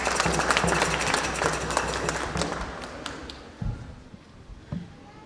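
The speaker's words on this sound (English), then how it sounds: "give her a round of applause" Applause at a civic Indigenous Peoples' Day ceremony as a senior deputy mayor comes forward: a busy patter of clapping hands that thins toward the end, with a few sharper claps standing out.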